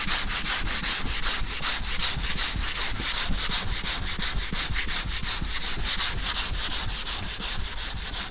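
Sanding block worked by hand over primer and guide coat on a box Chevy Caprice body panel, steady rapid back-and-forth rasping strokes, close and loud, continuous with no talk.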